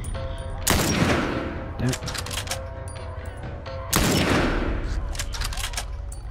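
Gunshots in The Last of Us Remastered, two loud rapid volleys of fire with a short crack between them, over game ambience, with a brief spoken exclamation.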